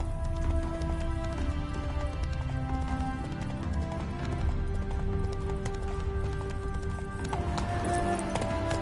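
Horse hooves clip-clopping at a steady trot in The Witcher 3 game, a continuous rhythmic patter set under layered game music and ambience, with a horse whinny possible.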